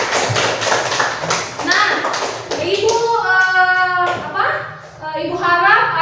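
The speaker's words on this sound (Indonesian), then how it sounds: "Berikan aplaus dulu untuk kelompok Tulip" Applause for group Tulip in an Indonesian classroom: a burst of scattered hand clapping from students in the first few seconds, followed by someone speaking.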